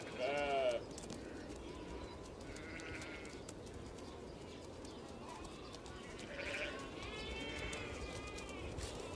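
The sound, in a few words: domestic sheep bleating in Kazakhstan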